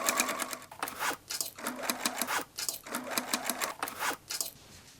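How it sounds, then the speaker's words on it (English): A sewing machine stitches the bottom corners of a denim tote bag lining in rapid bursts, stopping and starting several times, close and fairly loud with no talking. "stitch across them on the sewing machine to create a boxed bottom"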